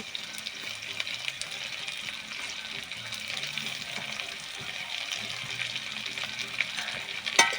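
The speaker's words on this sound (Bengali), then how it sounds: "এবার পেঁয়াজ টমেটো দিয়ে একটু নেড়ে নেব" Fried potatoes with onion and tomato sizzle quietly in a pan while being stirred, a steady hiss with faint scraping, and low indistinct voices murmur underneath.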